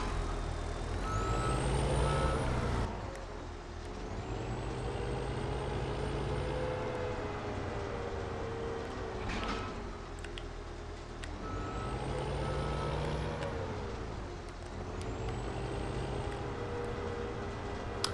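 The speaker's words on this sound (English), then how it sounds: "when we're using such a large fork on the front of the loader here" A farm loader fitted with a large front fork works nearby, its diesel engine droning while reversing beeps sound steadily in repeated runs, with the engine note rising and falling as it shuttles back and forth.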